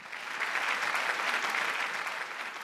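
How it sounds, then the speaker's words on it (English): Audience applause at the 2015 India Bus Awards ceremony, a dense, steady wash of clapping from a large crowd that holds at an even level throughout without any voices. "Can we please have a huge round of applause for him?"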